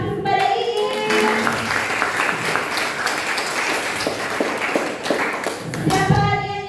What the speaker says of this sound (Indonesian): Kita beri aplaus kepada Iin.